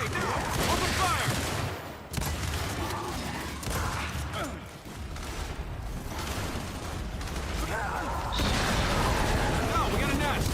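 Sustained gunfire from a shooter video game battle, bursts of rapid shots and booms running continuously, with voices calling out over the fighting.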